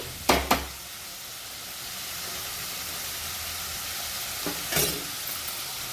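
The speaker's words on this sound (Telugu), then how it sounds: "ఉల్లిపాయలు త్వరగా వేగాలంటే ఉప్పు వేసుకోవాలి. ఉప్పు వేసుకొని ఒకసారి ఈ విధంగా కలుపుకొని" Onions with salt frying and being stirred in a pan for a Telugu onion pulusu, a steady soft sizzle with a couple of sharp scraping stirs near the start and another near the end.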